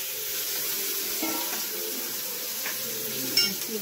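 Small onions sautéing in a pan give a steady, close sizzle with faint stirring clicks and one sharper scrape near the end, no voices.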